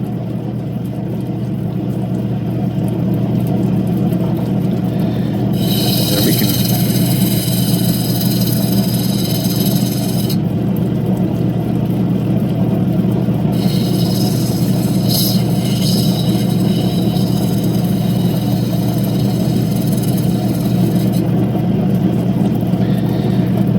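A diamond wheel grinds Mintabie fire red opal, a steady motor drone running throughout, broken by two long stretches of bright, hissing contact as the stone is pressed to the wheel.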